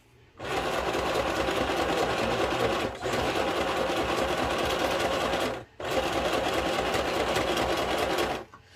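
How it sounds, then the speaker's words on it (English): A sewing machine stitches fabric for a small sewn project in three long, steady runs of close, loud mechanical whirring, separated by brief pauses. "So of course the sewing machine sewed where I sewed before."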